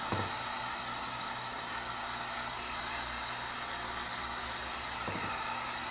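A heat gun drying a leather repair gives a steady, loud rushing blast of hot air without a break, a broadband whoosh with a low hum beneath it.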